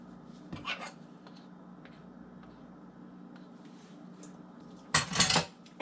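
A whisk and spoon scrape wet chocolate depression cake batter off the whisk and the sides of a baking pan, making a brief clatter, a long quiet stretch, then a louder burst of scraping near the end.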